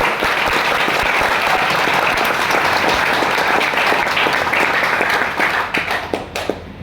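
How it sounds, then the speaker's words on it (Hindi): Loud, energetic applause from a large audience at a motivational business event, a thick continuous roar of clapping that stays strong and then fades out near the end. "इन सब के लिए जोरदार तालियां हो जाए"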